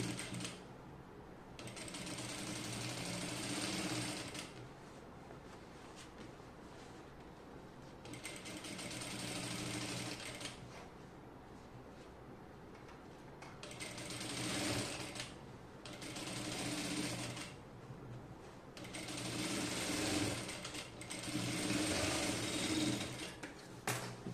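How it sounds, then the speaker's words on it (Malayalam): A sewing machine stitches along the neck edge of a cotton kurti, its motor running in several loud bursts of steady rapid stitching with short quiet pauses between them, and no voices. "എന്നിട്ട് നെക്കിൻ്റെ അറ്റത്തൂടെ ഒന്ന് സ്റ്റിച്ച് ചെയ്യാം ഞാനിപ്പോൾ അര ഇഞ്ച് വിട്ടിട്ട് സ്റ്റിച്ച് ചെയ്ത് കൊടുക്കുകയാണ്"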